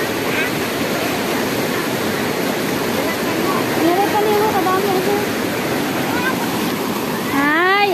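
Floodwater rushing after only light rain, a loud continuous broadband roar of moving water that holds steady throughout, with a few faint voices calling in the background.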